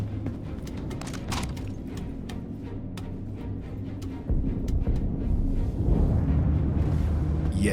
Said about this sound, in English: Yes, that's the sound of the engines going off.